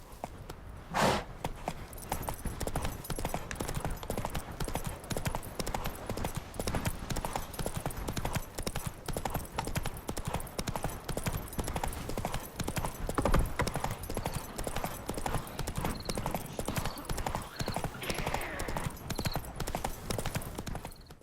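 Roach, a horse in The Witcher 3, walks with continuous rhythmic clip-clopping hooves, steady and close. A brief whinny and some faint background sounds occur along the way.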